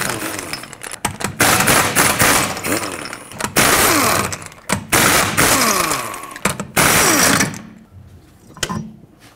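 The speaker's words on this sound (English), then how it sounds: "Use a 21mm socket, remove all 5 of your lug nuts," Lug nuts come off a 2011-2014 Hyundai Sonata rear wheel with a 21mm socket, heard as close, loud bursts of rapid rattling hammering separated by brief pauses, ending in quieter clinks.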